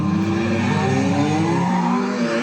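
Renault 5 Turbo race car sliding through a corner, a loud sustained engine drone with tire squeal mixed in, continuous and close for the whole stretch.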